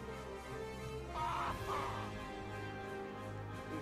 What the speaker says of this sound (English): That is the sound of a grown Norn crying because you've just taken his pet.